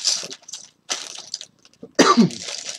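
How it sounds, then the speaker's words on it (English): A couple of short, rough coughs close by, broken by brief pauses, ending in a louder harsh burst. "Pardon me, I got a bit of a cough."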